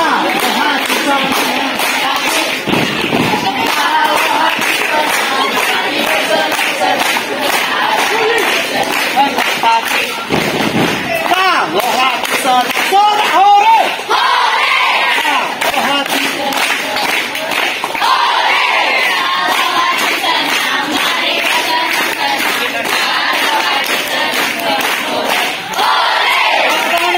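Scout troop of junior high students playing a group chant game outdoors, a loud crowd of children slapping thighs and stamping feet in unison, repeated rhythmic thuds and claps under continuous singing and shouting voices.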